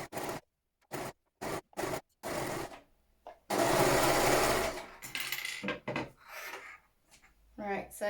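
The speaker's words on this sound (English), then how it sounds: "my overlocker didn't like that as much this time" An overlocker sews through layers of slipper fabric with thermal batting, starting in short stuttering bursts and then running for a longer steady stretch, loud and close, with some talk afterward.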